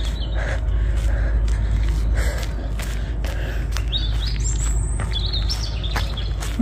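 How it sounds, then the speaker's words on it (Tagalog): Birds chirp and trill in short rising calls over steady outdoor background noise, several calls scattered through the moment, moderately near. "Sarap pakinggan ng mga huni ng ibon"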